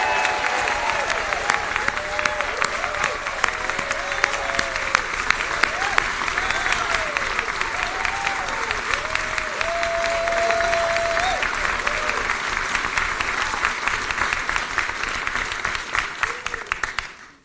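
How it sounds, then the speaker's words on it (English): A large crowd claps steadily for the Labor team at a Labor election rally in Burwood, NSW, loud and sustained for many seconds, with voices and cheers rising beneath the clapping before it fades at the end. "Let's give them a round of applause."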